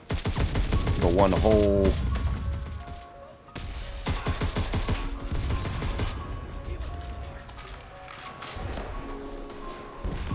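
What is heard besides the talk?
artillery shells exploding around a barn in a video game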